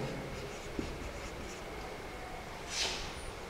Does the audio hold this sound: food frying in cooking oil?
no